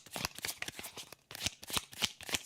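Tarot cards being shuffled during a live reading, a rapid run of crisp riffling and slapping bursts with a short pause partway through, close and fairly quiet, with no talking.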